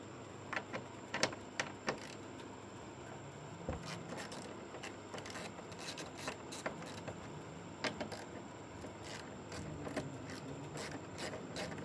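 A 10 mm ratchet wrench loosens the bolts holding the fourth brake light on a VB Subaru WRX, producing quiet, rapid clicking bursts of the pawl with occasional metallic scrapes, close by.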